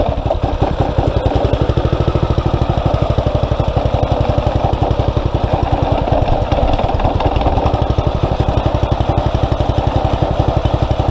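A Predator 212 small gasoline engine idles steadily and loudly on choke, not yet warm, a fast even putter with no pauses and no voices.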